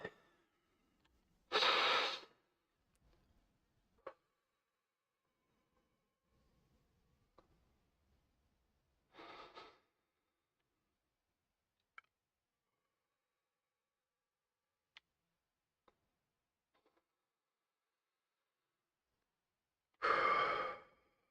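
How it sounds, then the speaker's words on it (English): Three deep breaths taken during a morning chant session, each a soft, airy exhale heard alone and close, spaced widely apart amid near silence. "3 deep breaths."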